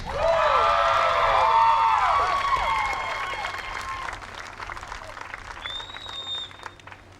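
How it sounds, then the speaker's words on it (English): Crowd at a 14U softball championship applauding both teams, clapping mixed with high cheers and whoops from young players at first, settling into steadier applause, with a whistle-like shout near the end. "one last round of applause for both teams"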